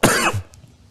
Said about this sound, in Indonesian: di saat penjelasan mungkin saya masih ada batuk-batuk